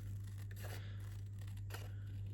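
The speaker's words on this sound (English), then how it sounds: "So I'm going to quickly fussy cut these out" Scissors fussy cutting around shapes in cardstock for a pop-up fun fold card, giving faint, intermittent snips and papery rustles over a steady low hum.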